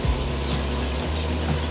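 A backyard pond waterfall, fed by a filter pump pushing water up to the top, splashes and trickles steadily at close range with no voices.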